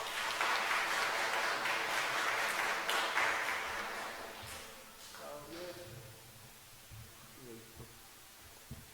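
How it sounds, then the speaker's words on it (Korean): Church congregation applauding, a dense wash of clapping that carries for several seconds, then fades as a voice speaks over the tail end. "이거 여러분이 축하해 주시고 박수해 주시기 바랍니다."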